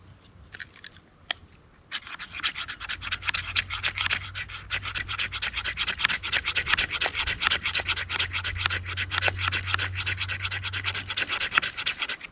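A brand new ferro rod having its coating scraped off with a striker, a close, steady rasping in rapid repeated strokes lasting about ten seconds after a couple of faint taps, with no talk.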